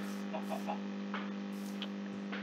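Chickens in the Minecraft video game give a few short, quick clucks over a constant low hum, with scattered soft clicks.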